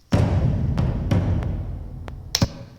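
A drums track plays soloed from a song's stems, with big tom hits. Several boomy thuds with sharp crisp transients are spaced irregularly over a couple of seconds, close and moderately loud, with no talk.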